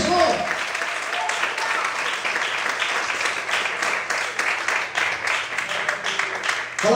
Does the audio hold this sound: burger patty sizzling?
no